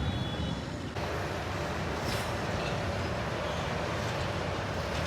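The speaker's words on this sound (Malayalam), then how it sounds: "ഈ ട്രെയിൻ ഈ പാലം കയറുന്നതെന്ന് നമുക്ക് കണ്ടു നോക്കാം" A train crosses a bridge with a loud, steady rumbling roar that holds throughout, with a brief faint squeal partway through and no voices.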